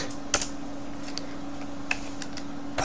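Typing on a computer keyboard while writing Bengali with Avro Keyboard: a few sparse, soft key clicks at an irregular pace over a constant low hum, close by, with no talk.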